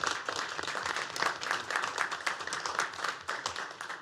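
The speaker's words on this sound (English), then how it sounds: "How about a little round of applause?" A commissioners meeting crowd applauds a young parent's graduation with a lively, even patter of many hands clapping. It is moderately loud and continues throughout without any speech.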